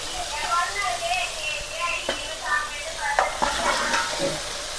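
Chicken curry frying and being stirred in a pan, a constant sizzle with scattered scraping clinks from the spoon, heard close under someone talking.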